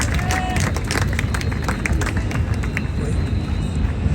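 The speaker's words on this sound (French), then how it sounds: "On applaudit, on a dit dès qu'il y a quelqu'un qui vient, on applaudit." An audience at a public political meeting on pensions applauds with dense, sharp clapping throughout, mixed with crowd murmur and some chatter.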